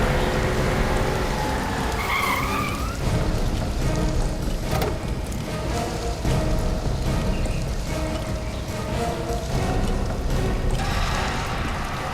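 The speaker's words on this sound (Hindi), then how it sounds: "कोई गाड़ी आई है।" A car arrives in heavy rain, its engine and tyre hiss blending into a loud, continuous downpour that stays dense and unbroken from start to finish.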